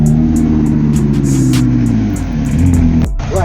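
A Porsche 991.1 GT3 rolls up at a rainy London supercar meet, its engine a steady, loud mid-pitched drone that shifts slightly before cutting off abruptly near the end.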